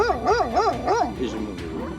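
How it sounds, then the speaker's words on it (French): A group of seven dogs bark in a quick, regular run of four close, loud yelps, followed by scattered softer barks and whimpers. "Il y a 7 chiens."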